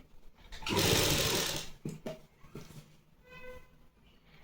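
A sewing machine stitches a salwar in short runs, a brief loud whirring burst followed by softer, intermittent stitching sounds close by.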